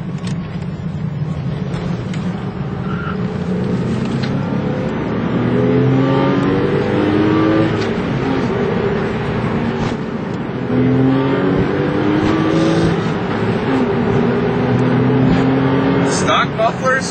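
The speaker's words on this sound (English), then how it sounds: "We have the 996 completely bone stock with mufflers and everything else, but we have our cold air kit on the car with the BMC filter." Porsche 996 Carrera flat-six with a Fabspeed cold air kit, BMC filter and stock mufflers, accelerating hard through several gear changes, the engine note climbing in repeated sweeps, loud and close, with talk under the engine.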